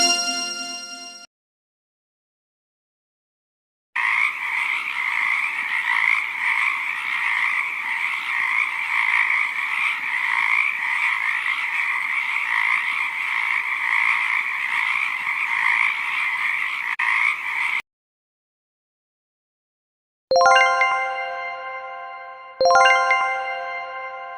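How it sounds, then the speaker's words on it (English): A frog croaks in a continuous, loud rasping chorus for about fourteen seconds, between a short chime at the start and two ringing dings at the end, with no voices. "What is the sound of a frog?"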